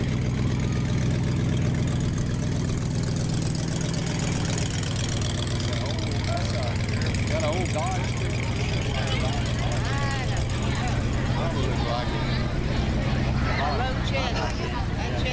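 A big hot rod engine with multiple exhaust pipes rumbles and idles steadily with a deep, throaty exhaust note at a car show, while people talk over it throughout.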